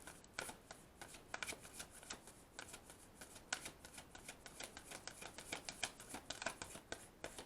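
A deck of tarot cards is shuffled close to the microphone, with quiet, rapid riffling and flicking in uneven bursts that run steadily for several seconds.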